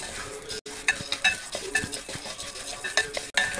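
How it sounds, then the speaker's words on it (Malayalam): Rice being stirred and roasted in a heated uruli pan, with a busy run of scraping, rustling strokes and light sizzling crackle, close and fairly soft, a brief pause between stirs. "അരി നല്ല വറുത്ത് അതിങ്ങനെ പൊട്ടി പൊട്ടി വരണം."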